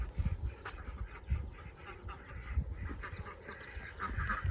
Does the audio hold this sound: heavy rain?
no